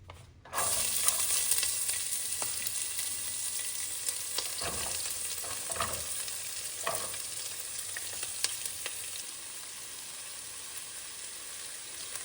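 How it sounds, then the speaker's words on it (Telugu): Onions for an eggplant and tomato curry drop into a hot pan and start a loud, steady sizzle that carries on throughout, with occasional soft stirring scrapes and no talking. "ఆ ఉల్లిపాయలు మిగిలినాయండి, అందుకని నేను ఇవి వేసేస్తున్నాను"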